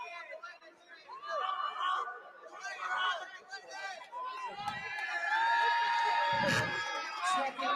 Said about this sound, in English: So I know you guys can hear behind us, you hear the crowd